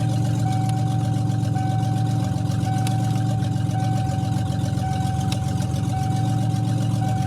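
A 1991 Mercury Cougar engine runs loud and steady at idle, a continuous close rumble with a constant hum on top and no talking.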